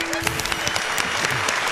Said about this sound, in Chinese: 我们应该要鼓掌